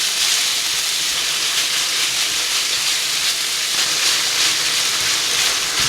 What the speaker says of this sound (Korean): 고기가 익으면 기름이 나오니까 기름이 나올 때까지 볶아줍니다.